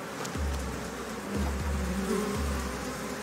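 Dangerous bees buzzing near a hidden hive, a low droning hum with several bees passing close to the microphone in overlapping swells, steady and fairly near, with no one speaking.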